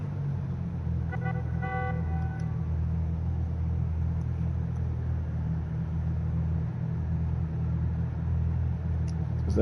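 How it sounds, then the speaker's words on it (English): A steady low engine rumble idles throughout, with a brief pattern of tones early on and a faint click near the end, heard from within a car. "Enjoy my car's idle sounds from the inside."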